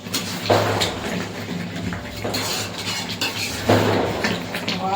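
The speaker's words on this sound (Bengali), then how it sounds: "আবার একটু নেড়ে দেবো" Chicken kosha is stirred in a covered pan, with metal utensil scrapes and clinks against the pan coming in a few distinct bursts over a steady low kitchen hum.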